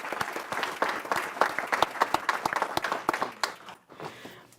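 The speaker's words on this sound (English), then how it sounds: "Let's give them a round of applause." An audience at a school board meeting applauds, close busy clapping that tapers off abruptly, with faint murmuring as it ends.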